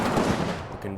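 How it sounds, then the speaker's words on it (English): Sustained bursts of rifle and machine-gun fire crackle through a World War II battle in the strategy game Combat Mission Final Blitzkrieg, a dense rattling volley that thins out near the end. "I like this gunfire going on right now."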